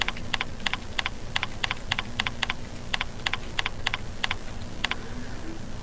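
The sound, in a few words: typing a question on a computer keyboard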